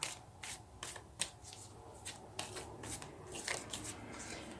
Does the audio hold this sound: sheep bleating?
no